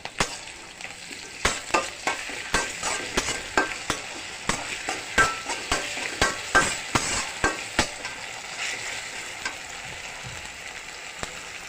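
Ginger garlic paste with bay leaves, cinnamon and spices frying in hot oil, a steady sizzle broken by a run of regular spatula scrapes and taps against the pan, close and clear.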